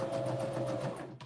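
A sewing machine stitches a quarter-inch seam through 2.5-inch fabric quilt squares placed right sides together, giving a close, steady motor whirr with a rapid needle rhythm that cuts out just before the end.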